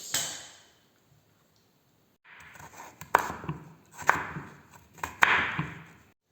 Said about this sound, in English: And cut it again into strips.